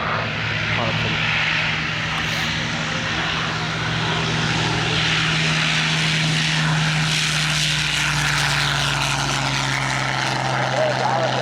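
Harlequin, a Merlin-engined aircraft at an airshow, roars past with a loud, steady engine drone and a whining tone that fills the whole stretch, while people talk over it.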